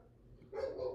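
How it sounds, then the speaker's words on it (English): Dogs bark in the background during live tornado-warning coverage of Tropical Storm Debby in North Carolina, a burst of barking that starts halfway through after a quiet stretch, fairly distant. "sorry for the dogs in the background"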